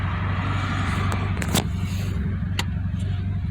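A 1951 Dodge Wayfarer with Gyro-matic transmission slowing to a stop on the brake, heard from inside the cabin: a steady low engine and road rumble with a few faint clicks and knocks over it.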